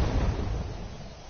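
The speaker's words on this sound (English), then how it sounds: "Cannon fire? Where's it coming from?" A single deep, booming video game cannon blast with a rumbling tail that fades out over about a second, loud and close.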